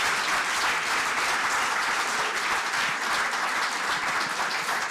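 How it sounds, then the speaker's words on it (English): Sustained audience applause fills a large room at a celebration honouring Pheroze Nowrojee. The dense, even clapping holds steady and loud for the whole stretch, with no voices above it. "Big round of applause, ladies and gentlemen."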